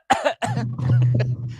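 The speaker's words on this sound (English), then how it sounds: "I have to cough." A person coughs close to the microphone: two sharp bursts followed by a rougher, throaty rumble, with no speech around it.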